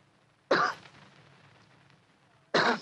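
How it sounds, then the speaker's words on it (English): A man gives a short, deliberate cough twice, two separate bursts about two seconds apart in a quiet room, close to the microphone with no speech. "After a moment, he gave what he thought was a discreet cough."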